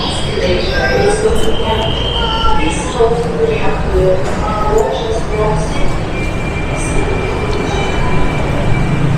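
Inside a station on Lahore's Orange Line metro, a train rumbles and hums loudly with squealing wheel tones and steady mechanical noise throughout, while someone talks over it.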